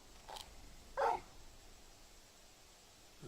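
A big dog in Final Fantasy XVI gives two short, faint barks, one quick yip followed by a slightly louder bark a moment later, against a quiet background.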